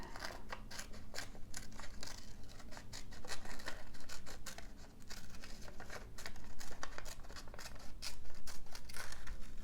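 Scissors cut paper for a red and gold collage, a close, steady run of crisp snips with some paper rustling and crinkling, and no talking.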